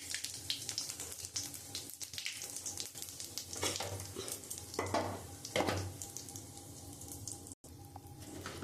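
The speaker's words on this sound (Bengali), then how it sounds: "আমি এর মধ্যে তেজপাতা, জিরে আর গোটা গরম মশলা ফোড়ন দিয়ে দিচ্ছি।" Bay leaf, cumin and whole garam masala sizzle in hot oil, a close crackling fry with irregular bursts as the spices are stirred, briefly cutting out near the end.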